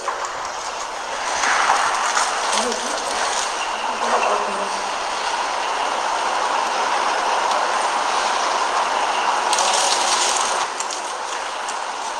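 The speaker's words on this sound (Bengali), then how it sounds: "এই মেশিনের মাধ্যমে আমরা অটোমেটিক সিলিং ফিলিং প্রিন্টিং করতে পারি" An automatic machine sealing, filling and printing semen straws runs continuously, a loud steady mechanical whir and clatter with no pauses for about twelve seconds.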